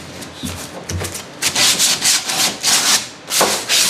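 Hand plane shaving wood for boat interior panels being fitted to a hull, a series of close, rhythmic scraping strokes that start lighter and grow louder and more regular, with no talking.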